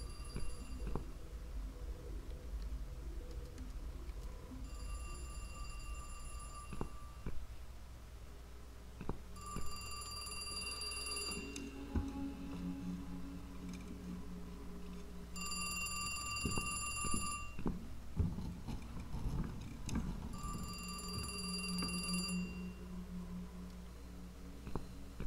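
An electronic telephone in a horror video game rings in repeated bright trilling bursts over a low droning ambient score, with no voices.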